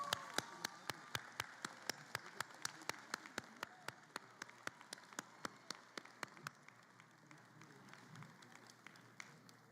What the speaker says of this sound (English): Please join me in another round of applause for these incredible doctoral candidates.